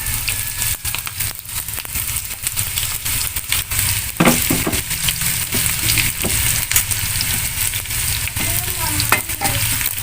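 Shallots and garlic frying in a pan beside jengkol beans: a steady, loud sizzle with occasional stirring scrapes and bubbling, no voices.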